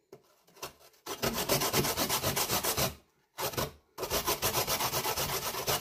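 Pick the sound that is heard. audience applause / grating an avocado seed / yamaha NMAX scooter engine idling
grating an avocado seed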